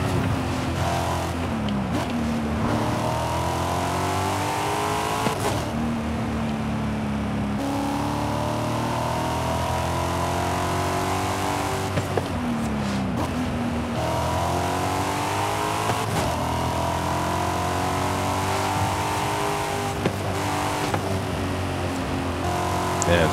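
A car driven in the Forza Horizon video game, its engine revving loud and continuous, rising through each gear and dropping at every shift in repeated cycles, with faint tyre noise now and then.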